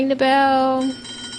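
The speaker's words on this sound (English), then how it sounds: "Ring the bell." A bell rung during a studio talk show to introduce a guest, one bright struck ring sustaining with steady harmonic overtones for most of a second before fading, close and fairly loud.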